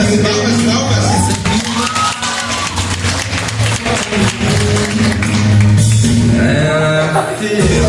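A lively crowd cheers, whoops and claps along at a 2025 meetup finale, the shouting and applause loud and continuous over a strong music bed with voices singing.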